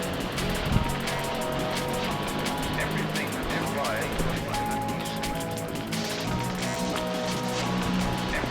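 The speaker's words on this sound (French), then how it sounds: "donc là on va arriver sous la grande cascade" A big mountain waterfall roars as a steady, broad wash of rushing water along a trail, loud and continuous, with faint voices underneath.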